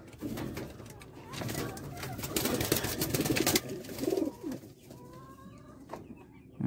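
Racing pigeons coo in a loft, a steady low murmur of several birds close by, with brief scrapes and handling noises and someone speaking intermittently over them.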